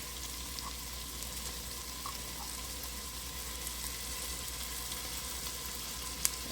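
Garlic added to sweated onions in a soup pot for potato soup sizzles in a quiet, steady hiss, with one faint sharp tap near the end and no talking.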